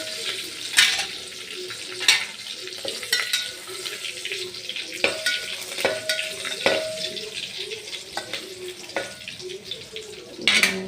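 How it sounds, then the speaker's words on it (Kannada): Curry leaves and garlic sizzling in a tempering pan, steady frying hiss with repeated sharp spatula scrapes and clinks against the pan at irregular intervals, a faint voice in the background. "ಅದಾದ್ಮೇಲೆ ಕರ್ಬೇವು ಸೊಪ್ಪು ಹಾಕ್ತೇನೆ ರೀ ಇದಕ್ಕೆ ಅದೊಂದು ಸ್ವಲ್ಪ ಬ್ರೌನ್ ಆಗಬೇಕು ರೀ ಬೆಳ್ಳುಳ್ಳಿ ಒಗ್ಗರಣೆ ಹಾಕಿದ್ದೆ"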